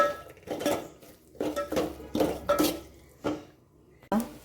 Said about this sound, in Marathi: इथे दीड चमचा लाल तिखट हे फोडणीमध्ये असं छान मिक्स करून घ्यायचं आहे